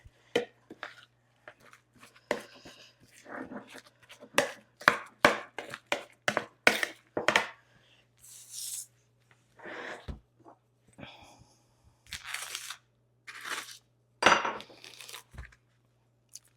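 Seasoned food being stirred by hand with salt and freshly ground pepper, an irregular run of close, sharp scrapes, taps and clicks against the bowl, with a few soft bursts of speech among them.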